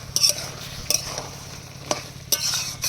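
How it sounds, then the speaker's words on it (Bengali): A spoon stirs sugar into a vegetable curry in a pan, giving a few distinct scraping clacks against the metal over a faint, steady sizzle. "এবার চিনিটা মিক্স করে নামিয়ে নেব"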